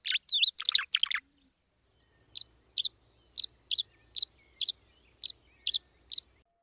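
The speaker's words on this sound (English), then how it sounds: "Barn swallows are very common summer birds and nest almost exclusively on man-made structures in nests built of mud and straw." Barn swallow calls: a quick burst of twittering chirps, then a short pause and a regular series of about ten sharp, evenly spaced notes, close and clear against near silence.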